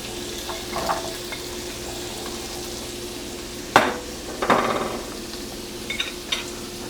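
Ground beef and vegetables frying together in a skillet: a soft, steady sizzle with a few sharper scrapes and stirring clatters, close and fairly quiet.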